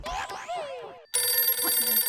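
After a moment of sped-up chattering voices, a telephone starts ringing with a bright, steady electronic trill that continues to the end.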